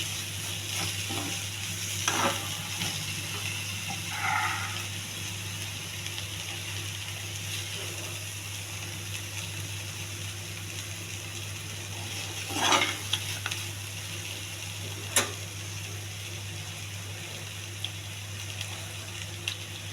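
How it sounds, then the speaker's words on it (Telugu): Raw plantain and tomato fry being stirred in a pan, a steady low sizzle with occasional scrapes and clinks of the spoon against the pan over about twenty seconds. "టమాటా వేసిన తర్వాత కింద మాడిపోకుండా కలుపుకుంటూ ఉండండి."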